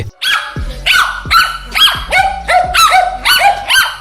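A dog yelps repeatedly in quick, high-pitched cries, close and loud, about eight yelps in a steady run.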